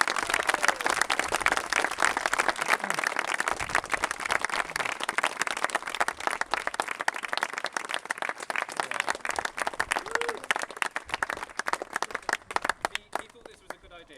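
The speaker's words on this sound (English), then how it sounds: "You need to give Chris a big round of applause." Sustained crowd applause and clapping for a rider at the end of a sponsored charity cycle ride at a school, steady and dense throughout, tapering off near the end with occasional voices mixed in.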